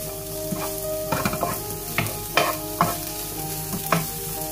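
Spring onions sizzle in hot oil with browned garlic-ginger paste for samosa filling, with steady frying hiss and several distinct stirring scrapes at a regular pace, and no talking.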